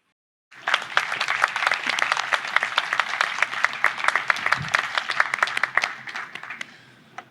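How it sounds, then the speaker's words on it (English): An audience at a law school spring commencement ceremony breaks into applause, dense, loud clapping that starts abruptly, holds steady for several seconds and then thins out. "Let's give another round of applause for our very special honorary degree recipient"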